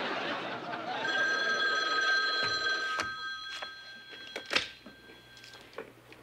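An old-style telephone bell rings in the office of WKRP AM, a Cincinnati radio station, in repeated bursts at moderate distance. Faint background chatter sits underneath.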